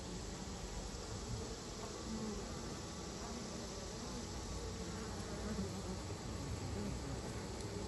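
A dense, steady hum of many honeybees buzzing close by at a hive, continuous and unbroken throughout with no voices.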